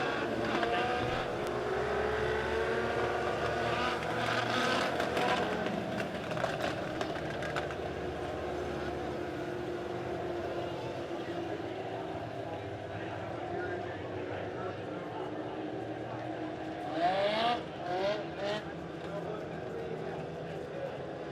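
Legend race cars roll out onto the Springfield Raceway track, engines droning and revving at a steady idle-to-moderate pace, with a brief louder revving burst later on, while an announcer talks over the engine noise.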